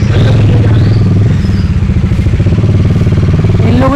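A motorcycle parked right outside a riverside guest room near Bhandardara idles loudly and close, its engine throbbing in a steady, rhythmic putter throughout.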